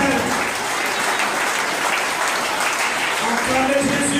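A church congregation at a worship service bursts into loud, sustained applause and cheering, a dense continuous roar of clapping with voices shouting underneath.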